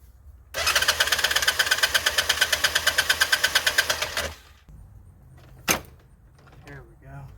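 A 2006 Jeep Rubicon engine cranks and turns over after gas is added, giving a loud, rapid, evenly pulsing chug for several seconds before it stops. A brief clunk and faint voices follow.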